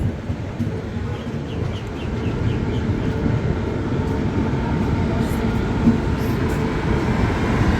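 Rajdhani Express 22222 on the Bhopal–Mumbai run through the Kasara Ghat section, giving a steady loud rumble and rattle of wheels on rail heard from on board, continuous and dense throughout.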